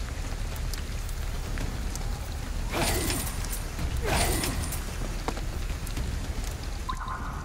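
Rain falling steadily in the video game Ghostwire: Tokyo, a constant dense patter on surfaces with a couple of louder splashy swells, no talking.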